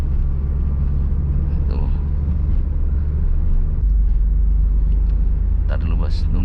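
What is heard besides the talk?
manual car shifting into third gear and accelerating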